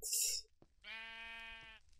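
A sheep in a video game gives one drawn-out, clear, harmonic bleat lasting under a second, preceded by a brief sharper sound and a short pause.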